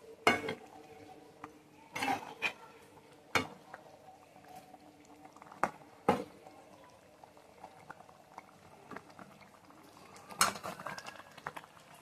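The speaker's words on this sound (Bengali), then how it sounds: "এই দেখো বন্ধুরা ঝোলটা কিন্তু খুব সুন্দরভাবে ফুটে গিয়েছে" Meat curry gravy bubbling at a steady boil in a pot, a continuous simmering hiss broken by sharp metallic clinks of a spoon or utensil against the pot every couple of seconds, with no talking.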